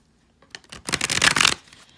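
Tarot cards shuffled by hand, a quick burst of papery riffling and sliding that builds for about a second, then fades, with a brief final flick at the end; close and fairly quiet, no talking.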